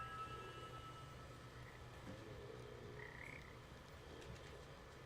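Frogs croaking inside a pipe in a video game, a chorus of repeated low croaks over a faint steady background hum.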